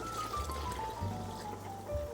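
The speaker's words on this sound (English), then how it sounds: "I'm going to add about 2 cups of water." About two cups of water pour into a pan on a kitchen stove, a faint steady trickle and splash running the whole time with a low hum beneath.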